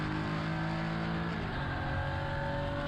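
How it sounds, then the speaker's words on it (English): Porsche race car in a Porsche Sports Cup Swiss race at the Red Bull Ring, pulling hard at full throttle in 4th gear, a loud, steady, rising engine howl with no talk. "4th gear, full throttle."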